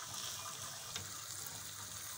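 Water is poured into a cooking pot of lentils and fenugreek, a quiet continuous splashing gush that runs the whole time at low volume, with no voices.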